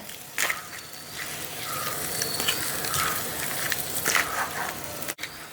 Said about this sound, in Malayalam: നന്നായിട്ടൊന്ന് മിക്സ് ചെയ്യണേ.